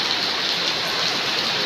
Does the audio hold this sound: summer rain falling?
yes